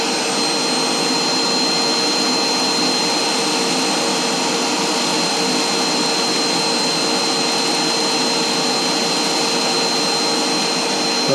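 A zig-zag seed cleaner sorts black oil sunflower seeds, giving off a loud, steady, unbroken blowing hum up close with no pauses or talk.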